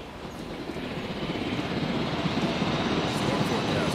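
A helicopter in the dinosaur-park video game Jurassic World Evolution gives a steady whirring rotor and engine drone that grows gradually louder and stays continuous throughout.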